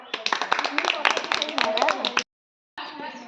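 Schoolchildren in a Marathi school classroom clap in a brisk burst of overlapping claps lasting about two seconds, with voices mixed in. It stops abruptly, then room noise returns after a short silence.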